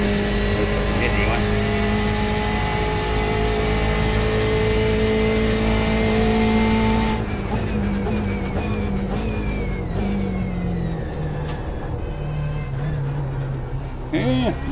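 BMW GTE race car in iRacing at Monza, its engine loud and steady at high revs, then dropping through lower gears as the pitch falls and climbs again, with the engine alone throughout.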